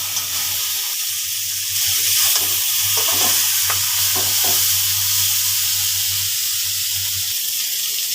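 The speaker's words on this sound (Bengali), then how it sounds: "কিছু সময় এভাবে নাড়তে থাকবো।" Curry fries in a pan under steady stirring, a loud, even sizzling hiss with soft scrapes of a spatula against the pan, close and continuous with no talk.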